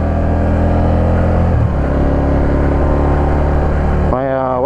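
A wife's new SE5 model bike, which drives differently from a motorcycle, hums steadily at close range during a lap of a parking lot, its engine tone shifting partway through and rising near the end.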